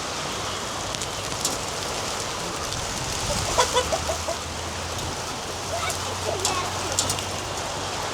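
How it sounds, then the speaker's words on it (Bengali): Heavy rain pours steadily at a village home where ducks and chickens are kept. The downpour is a loud, continuous hiss, and a few brief clucks rise from it near the middle. "হাই লেভেলের বৃষ্টি হইতেছে"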